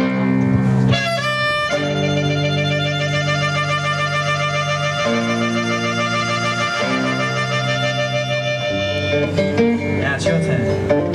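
Harmonica blues riff at a live blues show, with sustained chords and a wavering, throbbing tremble, loud and continuous, ending in a shifting flourish.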